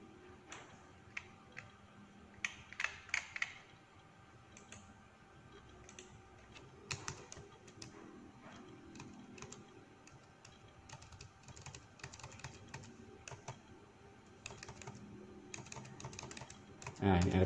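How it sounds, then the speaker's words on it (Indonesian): Computer keyboard keys click in short irregular bursts during spreadsheet work in Excel, faint and close, with a voice speaking softly in places. "Kita ketik R aja, R biar cepat."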